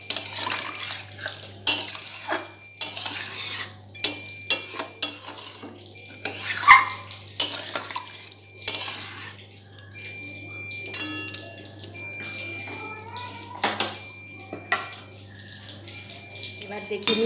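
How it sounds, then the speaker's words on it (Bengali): Water poured into a pan of Shankar fish curry in a home kitchen, mixed with clinks of utensils against the pan and scattered splashes, with short bursts of running water over a steady background hum. "এবার আমি এর মধ্যে দিয়ে দেব জল"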